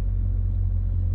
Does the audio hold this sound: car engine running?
yes